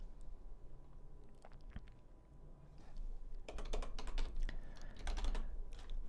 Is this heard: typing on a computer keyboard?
yes